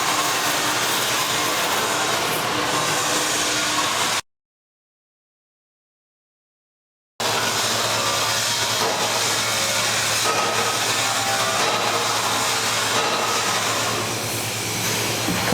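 Cutting torch flame slicing through cement-lined pipe, a steady loud roaring hiss with crackling slag, close by, holding continuously apart from a silent gap in the middle.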